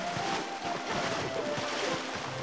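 Gentle water ambience from the video game Spiritfarer as the character wades in, a soft, steady wash of waves and wind at low volume with no talk.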